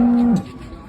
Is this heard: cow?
yes